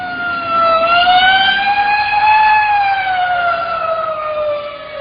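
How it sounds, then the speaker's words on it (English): A police car siren wails steadily in a long rising and falling tone, loud and fairly close, with no voices over it. "Hey, a police car."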